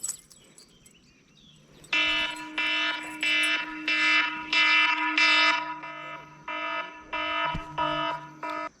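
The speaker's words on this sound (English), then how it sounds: "All right, well, there was my timer." A loud electronic timer alarm goes off after about two seconds of quiet outdoors by a fishing pond, sounding in a series of repeated bright beeping bursts with short gaps between them.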